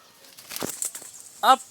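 A bird's wings flap in a brief flurry of soft, close rustling beats outdoors near a tea plantation, followed by a short bird call.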